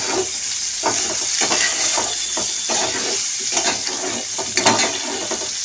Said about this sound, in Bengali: এবার আলুর সঙ্গে একটুখানি ভেজে নেব।